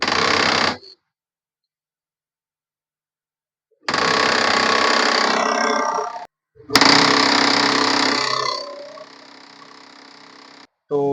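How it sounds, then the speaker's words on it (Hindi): An HP laser printer with a gear noise fault runs in loud bursts after being switched on with its rear cover removed, giving a harsh grinding mechanical clatter broken by silent pauses. "प्रिंटर को चलिए एक बार फिर से ऑन करता हूँ।"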